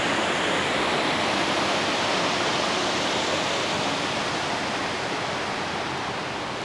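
A waterfall in the Jaintia Hills of Meghalaya roars as a steady, loud rush of water, an unbroken broadband wash with no voices over it.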